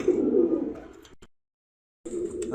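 Yellow King pigeons give soft, low cooing close by. A burst of cooing is followed by a short silent gap, and then the cooing resumes.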